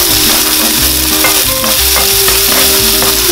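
Chopped onions and nuts fry in oil in a pan while being stirred, a loud, steady sizzle with repeated scraping and clattering stir strokes throughout, no talking.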